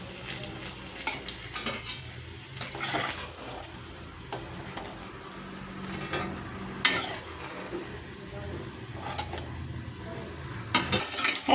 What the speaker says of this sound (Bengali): ধনেপাতার পকোড়া ভাজা হয়ে গিয়েছে